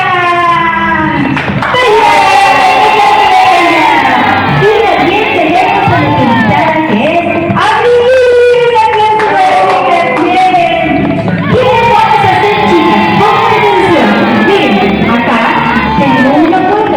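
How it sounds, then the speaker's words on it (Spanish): Children at a class game session cheer and whoop loudly and continuously, with excited overlapping voices and shouting throughout. "me van a ayudar a darle un fuerte aplauso"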